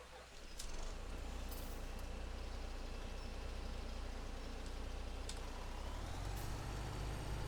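A truck engine in Farming Simulator 17 drones at a low, steady pitch and swells slightly near the end, with faint clicks on top and no clear talk.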